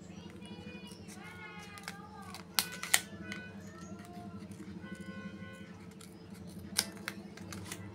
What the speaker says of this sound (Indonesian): Nih, kita gunting menyerong.